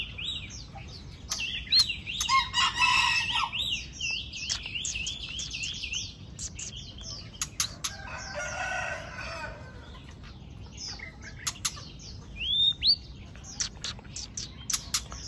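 Caged songbirds at a bird market, including female white-rumped shamas, trill and whistle in bursts of varied chirps and warbles over a soft background hum, with rooster-like calls mixed in, no talk.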